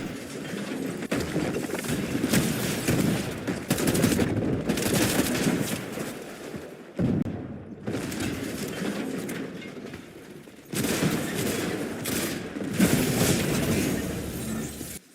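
Rapid gunfire from a Fortnite competitive match in the FNCS tournament, bursts of shots in dense continuous volleys with brief pauses between them, loud and close with no talking.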